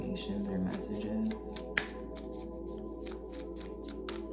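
A deck of tarot cards being shuffled by hand in a quiet room, soft repeated riffling and slapping with one sharp snap partway through, a faint murmur of voice early on.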